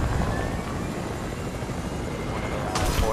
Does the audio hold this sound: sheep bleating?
no